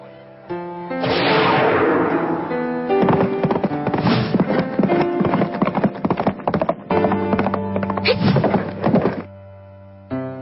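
Horse hooves clip-clop in a rapid, galloping rhythm during a horse riding race in an animated detective series, loud and close, with a musical score running underneath and no talk.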